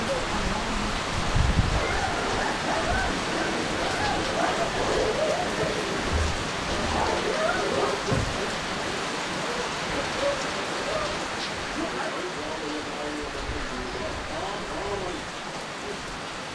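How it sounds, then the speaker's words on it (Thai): Steady rain falls near a raft stay on the Khwae Yai River in Kanchanaburi, a dense continuous hiss of drops spattering on surfaces, with faint bird calls and occasional low thumps. "ฝนตกครับ"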